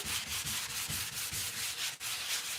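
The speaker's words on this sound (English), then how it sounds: "take our little sanding pad again and let's distress it" Rhythmic sanding strokes of a sanding pad rub back and forth over painted wood furniture, close and steady, about five passes per second with no voices.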